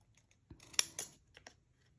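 A few quick scissor snips cut through card while making a festive poinsettia candle base, several separate close crisp clicks spaced over about a second, with no talking.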